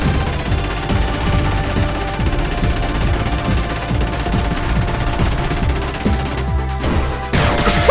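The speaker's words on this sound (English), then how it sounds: "Let's shoot him with guitars, like, that have miniguns and rocket launchers." Laguna's Desperado attack in Final Fantasy VIII unleashes a dense, continuous barrage of rapid minigun and rocket fire, loud and relentless, with a brief pause and a final burst near the end.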